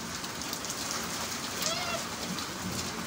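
Steady rain falls and patters on surfaces nearby, a dense hiss with occasional louder drops, while faint voices murmur in the background.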